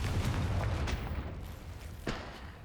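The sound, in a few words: Confringo blasting spell explosion, video game Hogwarts Legacy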